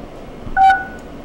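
Telephone keypad tones as *6 is pressed to unmute on a conference call line, a single short two-tone beep ringing out clearly over a quiet background.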